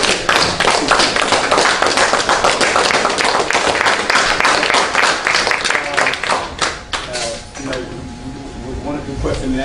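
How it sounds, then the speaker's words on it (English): Audience applause at a lecture on Olmec and African culture, a dense wash of many hands clapping loudly for about seven seconds before thinning out into scattered claps and murmuring voices. "Well, give him a round of applause again."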